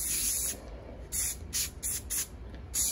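Rust-Oleum spray paint hisses from the can in five short bursts of about half a second each, close and steady, with small gaps between.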